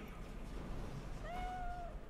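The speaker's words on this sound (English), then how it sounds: "Oh, cat's here still." A Siamese cat in Cyberpunk 2077 gives a single short, clear meow midway through, fairly faint over a low background hum.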